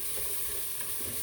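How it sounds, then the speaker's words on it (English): Chili sautéing in a hot Instant Pot and being stirred, a steady close sizzle with faint scraping throughout, no voices. "I just want to keep stirring this because I'm doing it in the Instant Pot"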